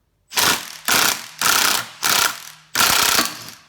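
A hand ratchet tightens a bolt on a Suzuki Quad Runner ATV, giving five loud, evenly spaced clicking bursts up close with short pauses between strokes.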